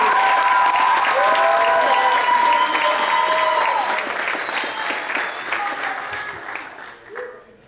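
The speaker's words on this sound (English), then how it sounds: "One last round of applause for our STEM instructors." A room full of people at a graduation ceremony claps enthusiastically, steady loud applause that gradually thins out and fades toward the end.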